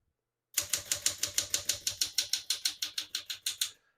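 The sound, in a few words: typing on a 1966 Smith-Corona Sterling portable typewriter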